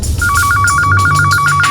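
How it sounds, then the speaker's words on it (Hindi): An electronic telephone ringtone trills in quick pulsing bursts, steady and fairly loud, over a busy indoor background in an office scene. "उसी समय मिस्टर शिनॉय का फोन आया"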